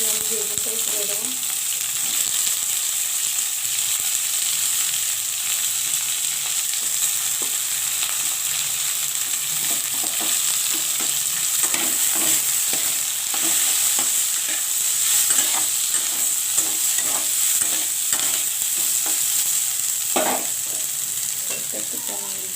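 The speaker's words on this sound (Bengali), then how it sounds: "এখন আমি তুলে দেবো পেঁয়াজটা। পেঁয়াজের সঙ্গে সঙ্গে আমি বেগুনটাও তুলে দেবো।" Sliced onion and eggplant fry in an oiled pan for a spicy greens dish, a steady loud sizzle throughout with scattered scraping knocks of stirring, close up and without talk.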